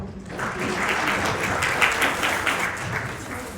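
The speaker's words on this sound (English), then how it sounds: "Let's give a big round of applause for everyone." Applause from the audience at a women's community event in Edmonton, a dense sustained wash of clapping hands filling the room, steady and fairly loud without speech.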